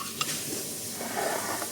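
Food being stirred and mixed in a hot pan with extra chilli powder added, a steady close scraping and soft sizzle with a brief clink near the start, no voices.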